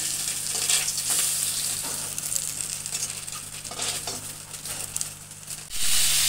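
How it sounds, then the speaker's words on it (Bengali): Pieces of katla fish fry in a pan with a steady, close hiss and sizzle, broken by soft scrapes and stirring, ending in a louder burst of spitting oil. "বাকি মাছগুলো আমি ভেজে নিচ্ছি।"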